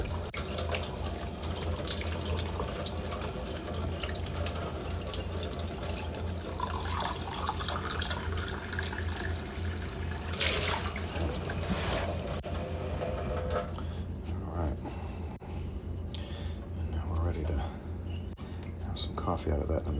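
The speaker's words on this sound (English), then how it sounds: "I might now do hot water just once again" Hot water runs steadily from a kitchen tap to warm a coffee cup at breakfast, a continuous close splashing stream lasting throughout, with a brief change in tone near the end as the flow shifts.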